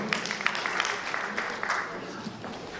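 Faint, steady applause from an audience at a national kindness award ceremony, a continuous patter of many hands lasting under three seconds.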